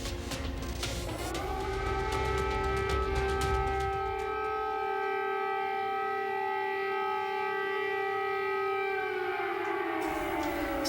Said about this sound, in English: Sirens overnight in the capital city of Kyiv, Ukraine